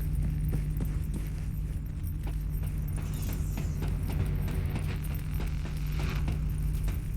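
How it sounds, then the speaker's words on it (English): Corrupted-signal white noise in the video game Cyberpunk 2077: a loud, steady broadband hiss with a throbbing low hum underneath, continuous and unchanging throughout. "here's some corrupted signal, I think. Like a white noise"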